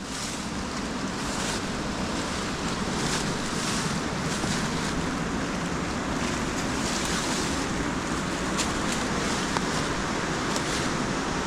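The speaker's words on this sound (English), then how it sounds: "It's an old water wheel housing, I think. As you can see, there's water going through it there now." Water flows through an old water wheel housing at a disused mill, a continuous broadband rush that stays steady and fairly loud without breaks.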